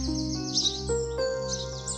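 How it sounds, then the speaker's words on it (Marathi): Cartoon birds of a rare species chirp and tweet in a steady stream of bright, high calls over a sustained music-like tonal bed, moderately loud and continuous. "हे तर खूपच दुर्लभ जातीचे पक्षी दिसतायत."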